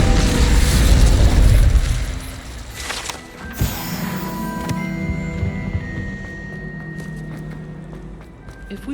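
In Hogwarts Legacy, an Incendio fire spell goes off with a loud low whoosh and boom up front, then fades into a lingering crackle under a sustained tonal game hum and scattered sharp magical clicks.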